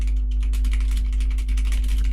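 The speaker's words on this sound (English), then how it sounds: "Oh, you can hear my keyboard, wait." Light computer keyboard typing, a run of soft rapid clicks sitting close over a steady low electrical hum, with no voices.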